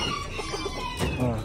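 A rooster clucks repeatedly at close range. The short, throaty calls are mixed with other farmyard chicken noise.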